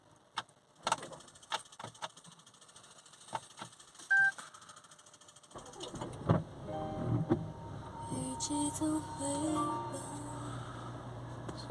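Land Rover Discovery Sport diesel with a full particulate filter: ignition chimes and clicks first, then the engine cranks and settles into a steady, moderately quiet idle with a low hum.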